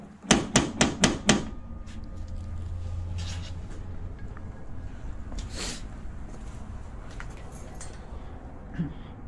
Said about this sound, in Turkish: Çalıyor mu kapıyı?